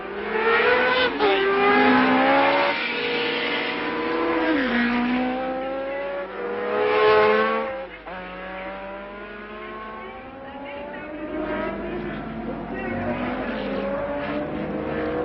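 Formula One race cars from the 1970 French Grand Prix scream past, engines rising and falling in pitch as they shift and pass, loud and near with layered overlapping engines, recorded with a narrow, old-sounding bandwidth.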